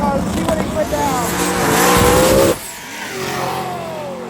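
A stick-shift drag race car launches down the track at Beach Bend, its engine roaring loud and close with rising revs and gear changes, then cutting sharply and fading into a lower distant drone while an announcer talks.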